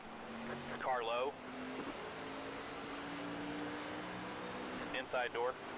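NASCAR truck engines race in the NR2003 video game, a sustained engine drone under spotter radio chatter, with tonal revving bursts rising and falling near the start and end.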